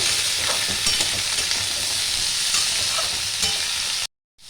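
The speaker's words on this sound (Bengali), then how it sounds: "আর 1 মিনিট চিচিঙ্গাটার সঙ্গে ভেজে নেব।" Snake gourd and potatoes frying in a pan, a loud continuous close sizzle with faint scraping stirs, then a sudden cut to silence before the sizzle returns briefly.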